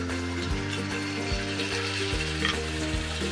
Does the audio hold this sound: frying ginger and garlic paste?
yes